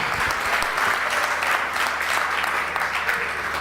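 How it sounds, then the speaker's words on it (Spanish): A church congregation bursts into applause, a dense, steady patter of many hands clapping at moderate distance, continuous for several seconds with no talking over it. "Dele un aplauso a Cristo."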